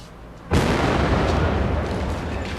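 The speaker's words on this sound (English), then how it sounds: "Later they located it and conducted a controlled explosion." A controlled explosion in a TV comedy sketch: one loud, sudden blast that hits hard and then rumbles on in a long, dense roar that slowly fades without ever quite dying out.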